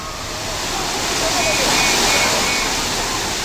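Water gushing over Kumbakkarai waterfall, a steady, loud broadband roar of falling water that fills the whole stretch without a break.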